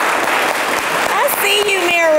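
Steady applause from a press conference audience fills the room without a break, loud and dense, with a few brief tonal sounds and possible voices rising near the end.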